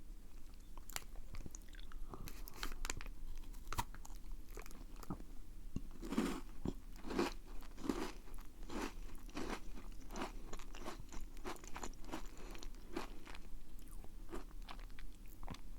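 Crunchy chocolate dagashi snack being bitten and chewed close to the mic, with a steady run of sharp crunches and crackles throughout and no talking.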